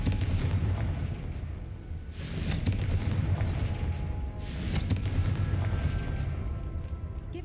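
Two booming Confringo spell explosions burst in Hogwarts Legacy, a few seconds apart, each a loud, broad blast that rolls off into a rumbling tail over a steady low background.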